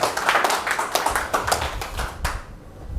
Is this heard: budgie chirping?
no